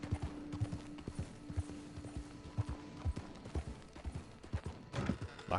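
Horse hooves clip-clop in an irregular walking rhythm in the video game Red Dead Online, fairly close and moderately loud, with a low hum in the background.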